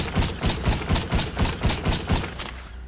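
Pistol shots hit bulletproof car windows in a Rockstar racing video game, about ten sharp loud evenly spaced cracks in quick succession, then the firing stops.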